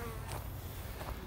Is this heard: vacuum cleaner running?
no